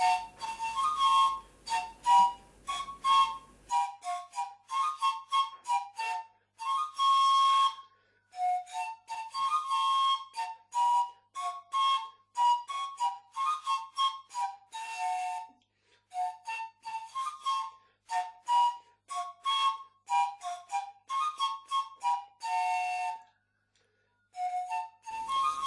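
Slovenian panpipes (trstenke) play a melody alone, a run of short breathy whistled notes with brief pauses between phrases, clear and fairly close.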